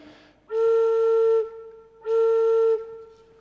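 An open wooden whistle-type pipe with a fipple is blown twice, each a loud, steady, breathy tone lasting about a second, separated by a short pause.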